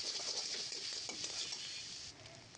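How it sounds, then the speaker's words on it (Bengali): A spatula stirs fried egg with chopped green chilies and tomato in a pan, giving a steady scraping and sizzling hiss with light metallic clinks throughout, easing off near the end. "ডিমটাকে একটু ভেজে নিলাম। ভেজে এর মধ্যে আবার আমি দিয়ে দিয়েছি কাঁচামরিচ কুচি, টমেটো কুচি দিয়ে আবার এগুলোকে খুব ভালো করে নেড়ে চেড়ে নেব।"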